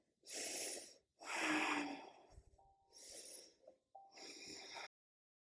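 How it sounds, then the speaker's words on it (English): Deep, audible breaths drawn while holding a yoga side plank: four long, close inhales and exhales with short pauses between, no speech. "2 more breaths here."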